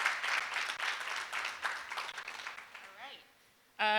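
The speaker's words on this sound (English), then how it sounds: "So, let's clap it up for Chico." Audience applause at a panel discussion on buying back the block for Detroit Diaspora Day, a sustained crowd clapping for about three seconds that fades, followed by a brief loud burst at the end.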